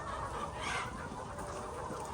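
Chickens cluck steadily in a poultry farm shed during spraying over the flock, a dense continuous chorus of hens close by with no one talking.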